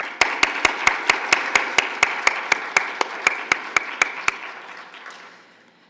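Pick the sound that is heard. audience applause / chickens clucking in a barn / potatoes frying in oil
audience applause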